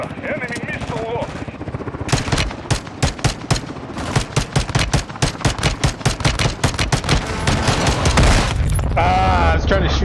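Video game gunfire in a chaotic firefight, starting with scattered shots and building into fast, dense bursts of loud cracks and rattling fire, with a voice speaking briefly at the start and end.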